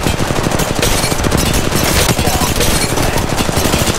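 Sustained rapid automatic fire from the R-301 rifle in Apex Legends Mobile, a loud, dense stream of overlapping shots filling the whole stretch with no pause.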